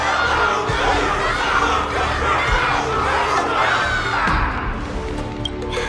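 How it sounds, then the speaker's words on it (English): A large crowd in the video game Honkai: Star Rail roars and cheers continuously, a dense wall of shouting voices that holds steady throughout. "Everyone's cheering for you, Luca!"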